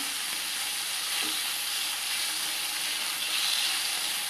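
Fish pieces frying in a pan give off a dense, continuous hiss of hot oil, loud and close, with no voices.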